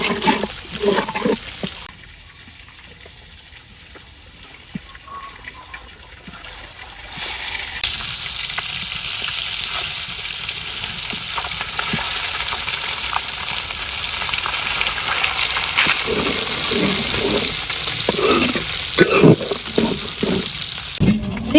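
Spice paste with turmeric, chilli powder and salt frying in a pan for a village-style fish curry, a steady loud sizzle running throughout with stirring scrapes and a quieter stretch near the start.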